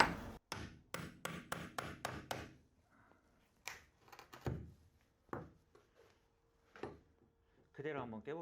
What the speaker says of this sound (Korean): 망치를 이용해서 한번 철거를 한번 해보겠습니다